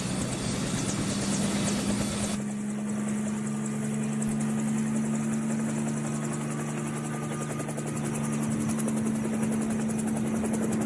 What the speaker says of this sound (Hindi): जो अमेरिकी हेलीकॉप्टर है, ब्लैक हॉक हेलीकॉप्टर का